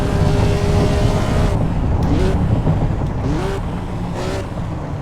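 A 1954 Formula One race car engine in the Assetto Corsa racing game at a wet Silverstone, droning steadily with shifting pitch, gear changes and rising whines, rain hiss behind it.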